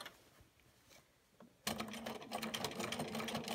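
Sewing machine stitching binding onto a quilt starts abruptly after a quiet pause, running in a fast, even mechanical whir with needle clatter, close and steady to the end.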